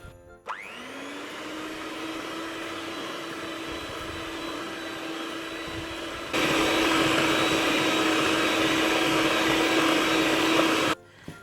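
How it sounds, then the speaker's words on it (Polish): An electric hand mixer fitted with dough hooks kneads cake dough in a home kitchen, a steady close motor whine that jumps louder and harsher midway as the speed is raised, then cuts off. "na początku miksujemy mikserem z tymi e, haczkami"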